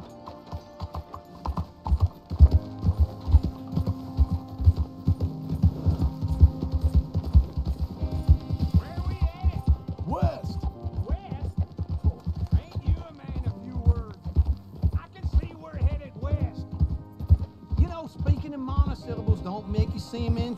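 Horse hooves clip-clop steadily in Red Dead Redemption 2, a close, regular rhythm continuing under a low hum, with voices talking over the hoofbeats and a brief whinny.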